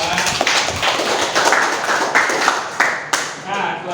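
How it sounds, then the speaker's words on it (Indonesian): Uneven, scattered clapping from a classroom audience after presentations, with sharp individual claps and taps and a voice talking over part of it. "Sekali lagi kita tepuk tangan untuk semua"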